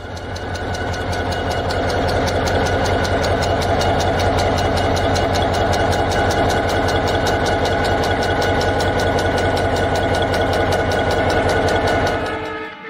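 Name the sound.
diesel locomotive engine running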